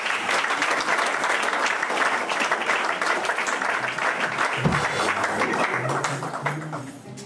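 A congregation at a church ordination ceremony bursts into sustained applause, dense clapping filling the room with faint voices mixed in, then thinning toward the end as a few voices rise.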